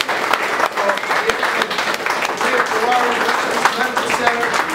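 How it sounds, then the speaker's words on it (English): Dense applause from a crowd at a fundraiser fills the whole stretch, steady and fairly loud, with a voice or two faintly mixed into the clapping. "let's give you guys another round of applause"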